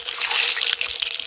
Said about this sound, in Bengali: এবার আমি এই তেলের মধ্যে দিয়ে দেব ডিম